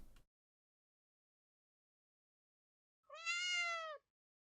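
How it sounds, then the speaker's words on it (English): A single clear cat meow rises and falls for about a second after a long stretch of silence, close and isolated, preceded by a brief faint noise. "Hey, it's a cat."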